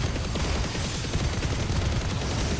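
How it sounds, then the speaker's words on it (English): Laser beam attack in Final Fantasy 16, a dense, continuous crackling barrage with rapid gunfire-like bursts, loud and steady throughout with no talking. "This time the laser beam should do good damage."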